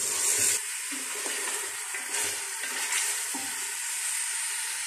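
Chicken sizzles steadily in a hot pan while being browned for nihari, with occasional scraping and stirring sounds over the constant crackle.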